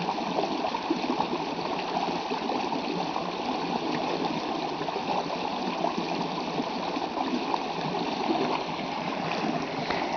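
Water of a stream flowing under ice through snow, a steady broadband rush and trickle running continuously and fairly close, with no voices over it.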